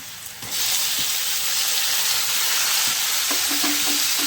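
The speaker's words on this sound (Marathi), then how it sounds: "लसूण छानपैकी मस्त तळून झालेला आहे आता यामध्ये कांदा टाकूया" Onion tossed into hot oil with already-fried garlic starts a loud, steady sizzle that jumps up sharply after a quiet start, with a few clinks of a spoon against the pan near the end.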